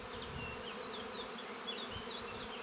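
Close, continuous buzzing of many honey bees at a hive during a colony merge, overlaid by a scattering of faint, quick high-pitched chirps.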